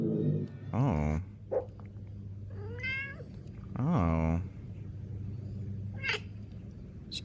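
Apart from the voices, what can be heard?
cats meowing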